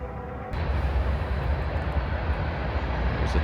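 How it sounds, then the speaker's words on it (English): A train passes near the tracks beside an abandoned town in Arkansas, a deep steady rumble that surges in abruptly and stays loud and continuous. "There's a train coming."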